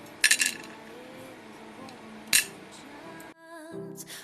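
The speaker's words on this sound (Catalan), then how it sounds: "Ara deixaré anar l'aranja damunt del plat perquè pugueu notar que realment ja està seca." A dried grapefruit slice, brittle and fully dehydrated, dropped onto a plate gives a couple of light, sharp clicks near the start and another at mid-clip, over faint room noise and a brief burst of background music.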